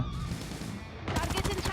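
Gunfire in the mobile shooter game Call of Duty: Mobile, with a rapid burst of automatic shots breaking in sharply after a quieter stretch of game background.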